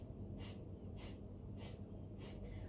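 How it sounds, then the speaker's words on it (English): Rapid yoga breath of fire during a Kundalini yoga session, with four sharp, forceful nasal exhalations at an even rhythm about half a second apart, close and fairly quiet, with no talking. "And then begin the breath of fire here."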